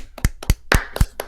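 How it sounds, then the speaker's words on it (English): Hands clap close by in a slow, steady rhythm, five sharp claps a fraction of a second apart, dry and loud with no talk. "Clapping."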